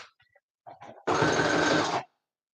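A sewing machine with a dull needle drives through eight layers of fabric in one steady, loud burst of about a second, preceded by a few faint clicks and handling sounds.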